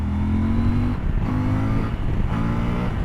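CF Moto 1000 MT-X motorcycle accelerating hard in third gear with traction control off, a loud, close engine drone rising steadily in pitch, dipping briefly at each of two short shifts or throttle lifts before climbing again.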